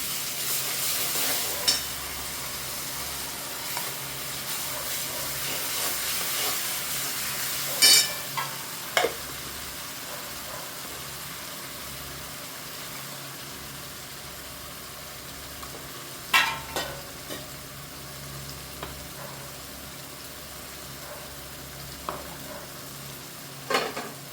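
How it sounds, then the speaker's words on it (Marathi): Garlic, ginger and coriander paste frying in a pan for chicken biryani, giving a soft, steady sizzle with a few sharp clinks of a utensil scattered over it. "पेस्ट लसण आदळ कोथिंबीरची पेस्ट टाकते"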